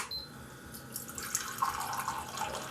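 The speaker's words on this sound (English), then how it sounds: "when you press the dispense button, it just will literally fill the cup up with, well, cold water" Varikettle hot water dispenser pouring cold water into a cup, a steady trickling, dripping flow of water close by with no talking.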